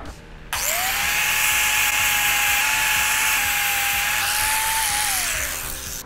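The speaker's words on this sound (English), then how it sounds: "Let's get the grinder plugged up." A grinder whines up to a high, steady pitch as it works over a weld laid with a Titanium Easy-Flux 125 welder, running loud and continuous before winding down at the end.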